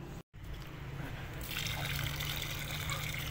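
Water trickles and pours into a cement and sand mix being prepared for a homemade pet cage, a steady liquid flow that swells after a brief gap and continues, with no talk over it.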